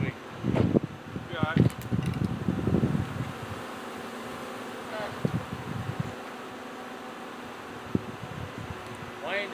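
A honeybee swarm buzzing around a beekeeper during a swarm catch, a steady hum under close voices with sharper bursts of activity and a few knocks.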